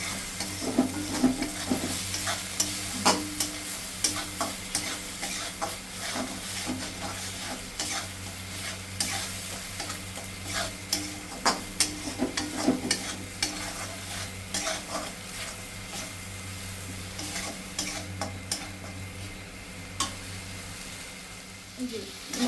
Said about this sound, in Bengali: এটাকে আমি ততক্ষণই কষাবো যতক্ষণ না পেঁয়াজের জলটা পুরোপুরিভাবে শুকিয়ে না যাচ্ছে